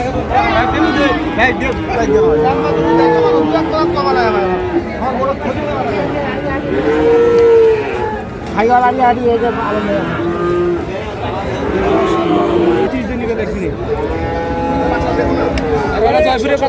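Large bulls moo repeatedly in long, drawn-out calls over the steady murmur of a crowd talking nearby at a cattle market in Chittagong.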